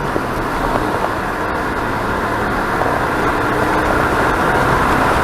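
A Kia Rio 1.5 CRDi diesel car accelerates hard from standstill, its engine a loud, continuous rumbling roar with road noise heard from inside the cabin.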